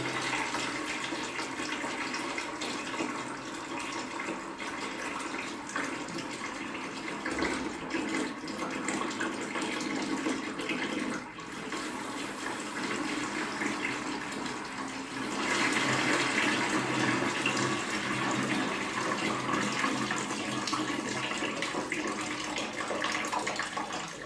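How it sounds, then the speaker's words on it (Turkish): Dirty water gushes steadily out of home radiator and towel-rail heating pipes being flushed, a continuous loud rushing flow that swells louder toward the end, with no talking. "Şu an tesisatın içinden çıkan su."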